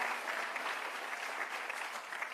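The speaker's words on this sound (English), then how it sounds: "Let's give her a round of applause." Audience applause at a political announcement on reproductive justice with the New York Lieutenant Governor, a steady, even wash of clapping from a crowd, fairly soft and continuous throughout.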